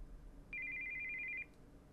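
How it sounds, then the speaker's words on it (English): A cell phone ringtone for an incoming call in the video game Steins;Gate 0: one steady, bright electronic warble lasting about a second, clear over a faint background, with no talk. "we heard the sound of an incoming call on a cell phone"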